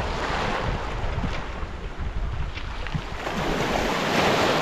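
Water rushes outdoors on a rocky mountain slope, a loud, steady broadband roar mixed with wind buffeting the microphone, with no voices.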